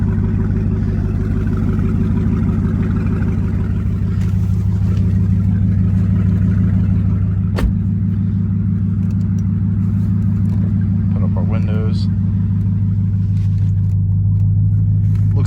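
A 2018 Dodge Challenger SRT Demon with a ram air hood idles loudly and steadily up close, its deep engine rumble continuous throughout, with faint brief variations partway through and no talking.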